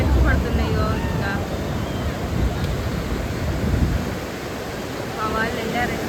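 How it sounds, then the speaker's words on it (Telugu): Sea waves roll in and crash on Ramapuram Beach at Chirala in a cool wind, a continuous rushing surf roar with gusts buffeting the microphone. "చూడండి అలలు ఎంత ఎక్కి పడుతున్నాయో."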